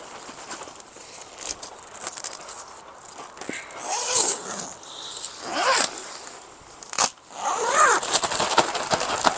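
Zippers on the door of a Tenplay 2P tent being pulled open in several short rasping strokes, close to the microphone, with fabric rustling and handling noises between them.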